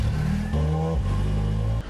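A car engine revving in a cartoon, a steady low rumble with shifting pitch steps, loud and close, with no talk over it.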